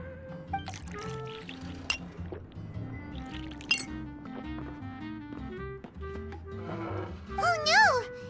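Juice poured and clinked into a glass in the game Genshin Impact, with liquid trickles and glassy chinks mixed under a tonal music bed and character voices throughout.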